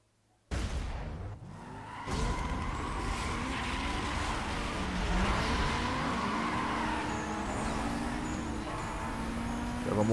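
A nitro-equipped race car in Need for Speed Most Wanted starts with a sudden burst, then its engine revs and whines through gear changes, loud and close, with tire noise and a voice talking.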